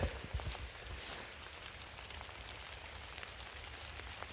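Steady rain falls on a field freshly spread with fertiliser, a dense, continuous patter of drops hitting the ground with no one speaking.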